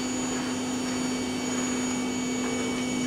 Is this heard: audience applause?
no